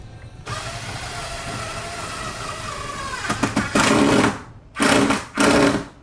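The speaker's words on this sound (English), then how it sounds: "you hear the head of the screw stripping" A screw being driven with a power drill into a hole in a display case, its head stripping; a steady whir builds to several loud grinding bursts near the end.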